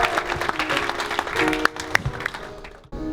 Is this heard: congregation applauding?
yes